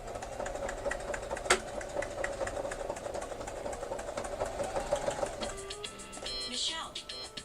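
A sewing machine runs steadily at close range with a continuous mechanical whir, and a person talks over it now and then.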